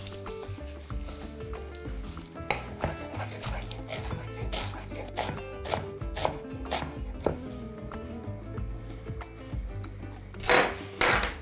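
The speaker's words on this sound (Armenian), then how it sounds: "կտրատում ենք մանր" Fresh cilantro, parsley and dill are chopped finely on a board with irregular knife taps, some sharp and loud, over a low background hum, with a dog faintly heard at times.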